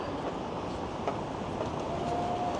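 Steady rumbling wash of a subway train at Dundas West station in Toronto, moderately loud and continuous, with a faint rising squeal from the wheels near the end and no talk.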